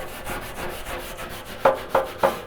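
Steel BBQ pit grates being scrubbed clean while still warm, a steady rough brushing rasp that ends in three sharper, louder scraping strokes, close and alone.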